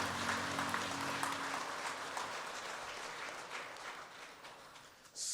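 Church congregation applauding at a Sunday worship service, a steady wash of many hands clapping at moderate level, with a low organ or keyboard tone underneath early on, fading slightly before a brief surge at the end.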